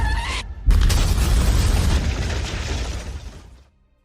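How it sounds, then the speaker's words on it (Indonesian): A trap detonates in a very large explosion: a sudden heavy boom after a brief quiet gap, then a loud rumbling roar with debris that fades over about three seconds. "Mac tadinya sudah memasang jebakan dan membuat ledakan sangat besar"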